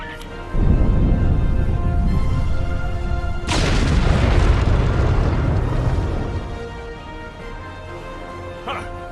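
A loud, rumbling explosion goes off in the Star Trek Online video game, starting abruptly and then swelling into a heavier blast that roars for several seconds before fading.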